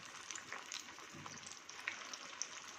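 Corn fritters fry in hot oil with a soft, steady crackle and scattered small pops, fairly quiet and without voices.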